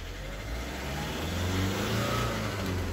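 A Volkswagen CAYE engine revs in short blips during injector compensation adaptation, rising and falling over a steady mid-range rumble, close and fairly loud with no talking.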